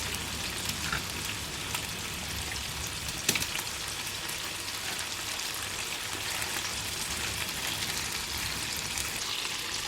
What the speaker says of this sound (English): So the pasta's boiling nicely now